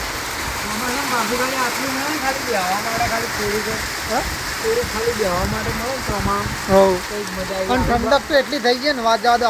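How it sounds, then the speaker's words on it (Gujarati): The season's first rain falls in a steady, close hiss on surfaces, with people talking over the continuous downpour. "પહેલા વરસાદની શરૂઆત સ્ટાર્ટિંગ પોઈન્ટ થઈ ગયો."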